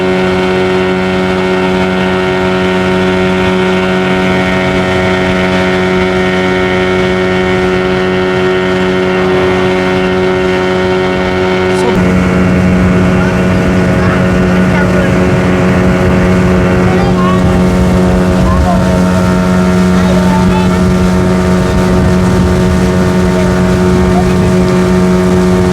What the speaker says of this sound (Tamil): போட் பயணம் எங்களுக்கு ஒரு சூப்பர் அனுபவம்.